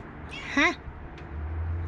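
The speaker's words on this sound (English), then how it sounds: "oh, there's a kitty on the sill." Cat meowing once from a window sill, a short rising-falling mew at close range, with background hum and a person nearby.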